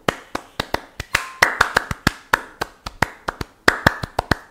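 Sharp individual hand claps ring out one after another in an uneven, fast rhythm, close and crisp, each with a quick decay, some bursts doubling up into quick pairs; no talking over them.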